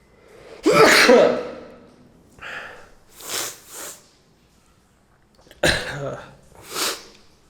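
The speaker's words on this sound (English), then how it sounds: "next step would be me sneezing, probably" A sharp sneeze, followed by a few sniffs and snorts, then a second sneeze with another sniff after it; close and loud, no talking.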